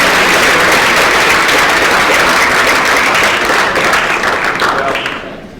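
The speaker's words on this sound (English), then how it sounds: "a round of applause" Audience applause after a speaker introduction at a downtown restoration program presentation, loud sustained clapping from a room of people that fades out toward the end.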